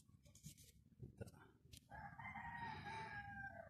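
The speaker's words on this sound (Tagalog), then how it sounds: "Maingay lang kasi manok natin eh." A rooster crows loudly nearby with one long drawn-out call filling the second half, after brief clucks and clatter, over steady background noise.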